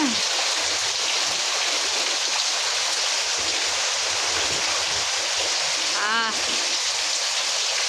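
Winter rain pouring steadily, a dense, even hiss of drops that holds at the same loud level throughout, with one brief high warbling chirp cutting through near the end.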